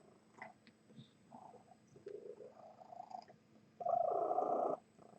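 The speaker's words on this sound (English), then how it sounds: "You could probably hear her purring." Domestic cat purring close by, soft rhythmic rumbling that swells into a loud, sustained purr near the end, in a quiet room with no talking.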